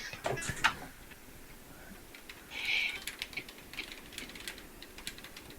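Keyboard typing, faint and close, light irregular clicks in short bursts with a few louder taps near the start.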